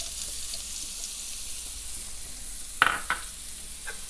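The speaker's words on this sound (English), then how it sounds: "I'm just going to take one clove of garlic, and half of a shallot. Sauté those." Sliced garlic and half a shallot sauté in a pan with a steady soft sizzle, then a few sharper clinks of stirring near the end; no voices.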